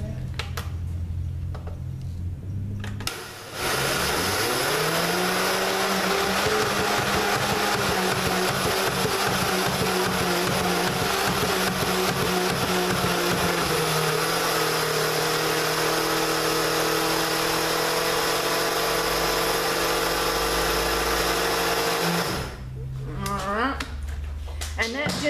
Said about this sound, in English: we are grinding it to make it finer